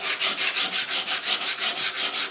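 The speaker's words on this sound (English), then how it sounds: "a piece of metal with a piece of sandpaper glued to it, in terms of the fact that it's pretty much, flat, but being curved instead of sharp edges" A curved metal sanding tool faced with glued-on sandpaper rubs back and forth on an English walnut HW80 air rifle stock, a fast, even rasping rhythm of about ten strokes, close and alone.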